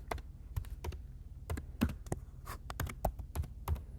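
Close, quiet keyboard typing, a steady run of light key taps with irregular rhythm and no talking.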